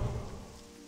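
Rain falls with a rumble of thunder in the World of Warcraft Hardcore game, a dense steady hiss with a heavy low roll at the start fading slightly over a brief moment.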